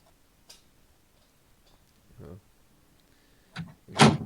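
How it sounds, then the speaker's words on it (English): A doorknob in a video game turns with a few soft, scattered clicks and rattles, ending in a louder close clack, heard alone against near silence. "You can just hear the doorknob."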